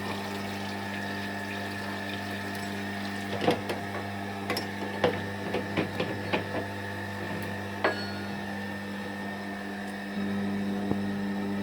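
A combi boiler pump circulates cleaning water through the home's radiators during a radiator flush, making a faint steady hum with scattered small clicks and taps over it, and no one talks.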